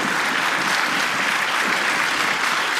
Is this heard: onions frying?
no